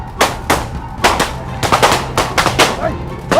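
Rapid bursts of machine-gun fire crack out in uneven volleys, loud and close, like a staged shootout in a Thai TV drama.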